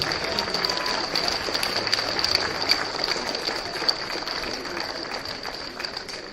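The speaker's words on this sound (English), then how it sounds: "A round of applause for St Bede's." At the presentation after a schools premier boys cricket final, a crowd applauds steadily and fairly loudly for several seconds. The dense clapping is mixed with faint crowd noise and a few sharper individual claps.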